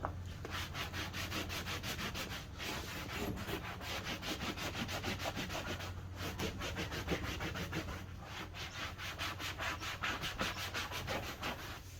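Steady rapid rubbing and scrubbing on fabric, a fast rhythmic back-and-forth scratching that continues without pause, fairly quiet and close.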